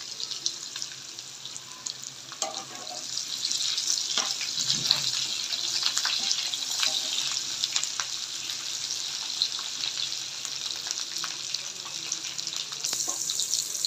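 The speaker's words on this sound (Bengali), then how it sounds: "আলুগুলা প্রায় ভাজা হয়ে আসছে।" Potatoes with turmeric and salt fry in a pan at home, giving a steady bright sizzle with occasional stirring scrapes, continuous and close throughout without speech.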